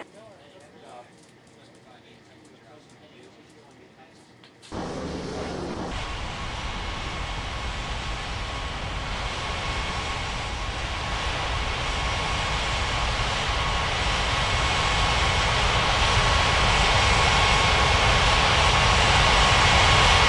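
Airliner jet engines in the mobile air traffic control game Unmatched Air Traffic Control, a loud steady roar that kicks in abruptly and keeps building, following a quieter stretch with a faint background hum.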